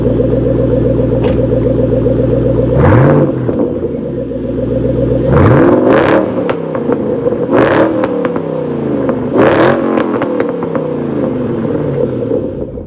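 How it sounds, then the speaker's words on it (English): A 2011 Shelby GT500 with a supercharged Whipple engine making 750 hp idles loudly up close with a deep lumpy rumble, then revs sharply about four times in separate throttle blips that each fall back to idle. "Time for a little rev."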